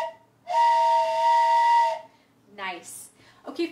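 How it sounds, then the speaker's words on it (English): A teacher blows a toy train whistle in a music and movement class, one loud sustained multi-tone blast of about a second and a half, followed by a child's or adult's voice. "if you hear my train whistle, I want you to go, woo"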